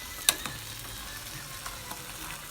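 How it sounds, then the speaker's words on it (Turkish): Hard kashar cheese frying in a pan, a close, steady sizzle with a sharp pop near the start and a few lighter crackles after, with no talking. "Evet benim kızım sert kaşar peyniri kızartıyor."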